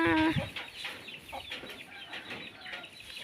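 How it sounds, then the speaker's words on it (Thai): Chickens cluck on a rural Thai rice-field farm where ducks and hens are kept, with a short loud call at the start followed by a steady scatter of nearby clucks. "เลี้ยงเป็ดเลี้ยงไก่"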